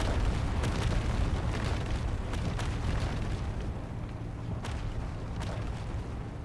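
Meteor explosions in the space game Space Engineers, a loud, continuous rumbling roar with several sharper booms breaking through it.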